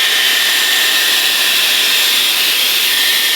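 A Dyson Airwrap or T3 Micro Aire 360 hair dryer blows continuously, a loud, close, steady airy rush without any break.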